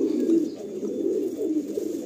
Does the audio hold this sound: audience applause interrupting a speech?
no